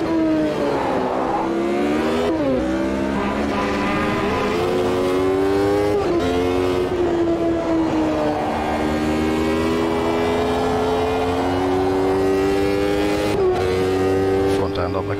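Classic Formula 1 car in the sim racing game Automobilista 2, its high-revving engine loud and close throughout, climbing and dropping through gear changes, with someone talking over it.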